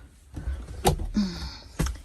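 A camper drawer sliding open or shut, with a couple of short knocks and a brief scraping glide between them, close and moderately loud in a quiet interior.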